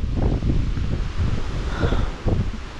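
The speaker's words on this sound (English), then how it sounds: "Oh, here comes some more wind." Wind gusts outdoors during an Oklahoma tornado watch, buffeting the microphone hard with a continuous roar and rustling trees, rising and falling in waves with no talk over it.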